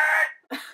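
A short two-part honk from the goose character in a video game, a harsh burst followed by a brief second squawk, loud and alone without talk.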